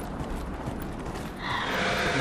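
Horse galloping in the Dragon Age video game, a rapid run of hoof clatter mixed with rattling, mechanical-sounding noise, growing brighter and louder toward the end.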